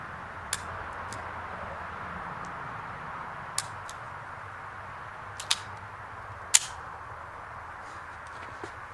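Taurus Spectrum .380 pistol firing Federal brass-case ammunition outdoors on a cold range, four or five sharp, fairly faint shots at irregular intervals over quiet background noise.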